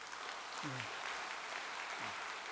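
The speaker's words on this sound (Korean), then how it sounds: "박수 한번 보내 올리겠습니다" A church service congregation applauds visiting business guests; steady, fairly faint crowd clapping runs throughout with a speaking voice briefly over it.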